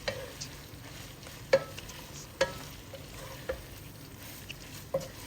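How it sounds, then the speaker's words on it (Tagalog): Bagoong alamang shrimp paste being stirred with pork in a pan, a quiet sizzle underneath with a handful of sharp spatula scrapes and clacks spaced a second or so apart. "Haluin lang ng haluin."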